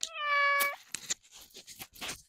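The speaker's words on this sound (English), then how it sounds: "This is my Bengal cat." A Bengal cat gives one loud, clear, drawn-out meow close by, followed by several short, quieter chirps and murmurs, with no people speaking.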